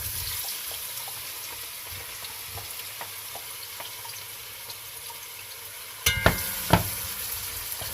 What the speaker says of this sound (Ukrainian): масло нагрілося, кидаємо цибульку